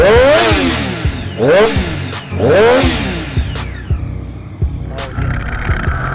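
A 2017 Triumph Daytona 675R sport motorcycle engine revs hard three times in quick succession, each rise and drop sharp and close, then settles into lighter rumbling.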